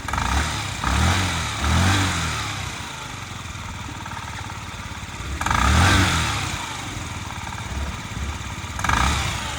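A Yamaha Jog SA57 fuel-injected scooter engine runs steadily nearby, with a low buzzing drone that swells in a few short revving bursts before settling back to idle.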